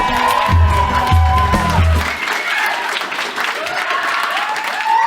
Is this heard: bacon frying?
no